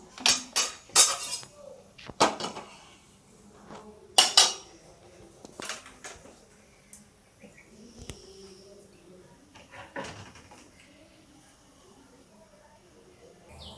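A metal pan clatters and clinks as it is set on a stove in a home kitchen before making paruppu urundai kulambu, a few sharp knocks up front and then fainter rattles and scrapes.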